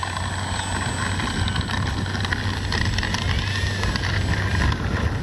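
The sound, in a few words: Kavan Bristell B-23 RC plane flying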